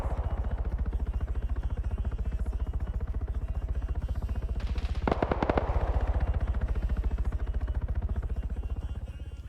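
Helicopter in a military video game, a low rapid rotor thump pulsing steadily throughout, with a brief burst of crackling gunfire in the middle, fairly loud and unbroken.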